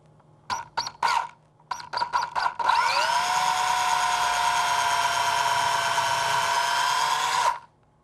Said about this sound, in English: I put in a 1/16 of an inch bit, small bit, in my cordless drill